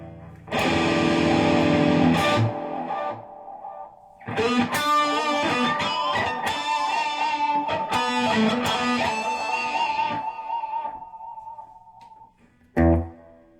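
Electric guitar notes and strums with repeating echoes trailing after each phrase, loud and close, ending with a final struck chord.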